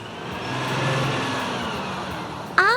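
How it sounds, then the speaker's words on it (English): A bus engine rumbles steadily at a moderate, even level for a few seconds, with a brief higher-pitched sliding tone cutting in at the very end. "I can see a bus."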